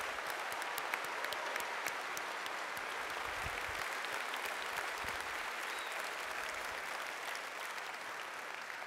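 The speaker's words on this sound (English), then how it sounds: "Let's give the faculty and staff a nice round of applause" Sustained applause from a large audience at a university convocation ceremony, a steady dense clatter of clapping that holds at an even level throughout with no speech over it.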